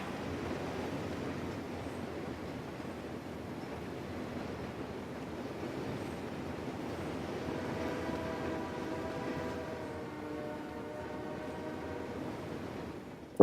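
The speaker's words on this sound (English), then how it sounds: "Right, the train is almost here." A train passing in the Forza Horizon 3 racing game, a steady rumbling roar throughout with a sustained rising engine-like tone in the latter half, fairly loud and without talk.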